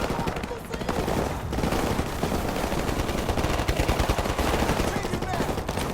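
Dense, continuous machine gun fire rattles without pause in Call of Duty Modern Warfare Remastered, loud rapid bursts blending into a constant barrage of combat noise with voices faintly mixed in.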